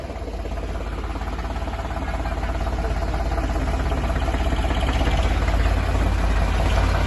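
A tractor engine runs steadily nearby, a low throbbing idle with a rapid chugging pulse, gradually getting slightly louder.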